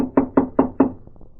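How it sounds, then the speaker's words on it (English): Knocking on a door, four firm evenly spaced raps close by, followed by a few fainter quick taps. "The sheriff and I squeezed into a closet when the knock came at the door"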